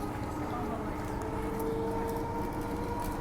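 A Transperth A-Train passenger train runs between Subiaco and Fremantle, with a steady rumble of wheels and a sustained motor whine from inside the carriage.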